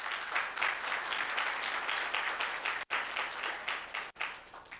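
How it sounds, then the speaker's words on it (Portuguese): Steady applause from an audience at a political awards event in Belo Horizonte welcoming ACM Neto, even clapping that cuts out briefly twice, fairly quiet and distant. "receber com uma salva de palmas o nosso amigo ACM Neto"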